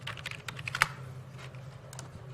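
Touch typing on a computer keyboard gives rapid, close, crisp key clicks in quick irregular bursts, with one sharper keystroke standing out.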